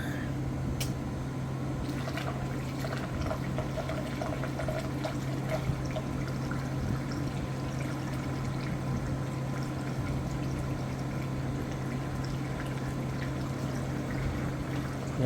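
Water poured to fill the radiator of a 1998 Arctic Cat 500 4x4 ATV, a steady continuous trickle and splash close by under a constant low hum, with no talk.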